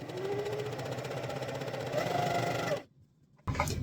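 A sewing machine stitches a LARP shield cover with a steady, fast mechanical whir, then stops abruptly and restarts briefly near the end.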